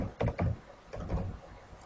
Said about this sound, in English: so to type the password again